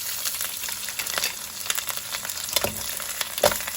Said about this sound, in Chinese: 然后放入龙虾，